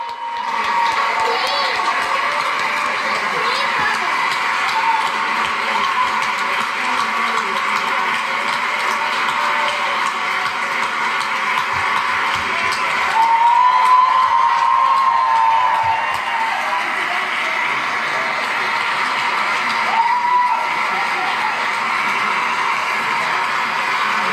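A large crowd cheers loudly after Hillary Clinton's 2016 election concession speech, a sustained roar of shouting and whooping voices that holds steady and swells briefly partway through.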